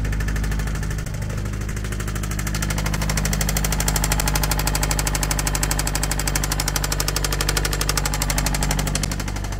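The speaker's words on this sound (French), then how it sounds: "Non mais là il y a une soupape qui tape un cylindre là." A Subaru boxer engine idles with a rapid, steady metallic ticking and knocking from a valve striking a cylinder, close and persistent throughout with no talk.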